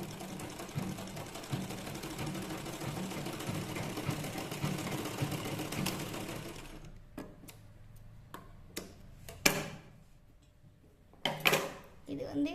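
A sewing machine top-stitching fabric runs in a steady, fast, even whir for about six seconds, then stops, followed by scattered clicks and handling taps.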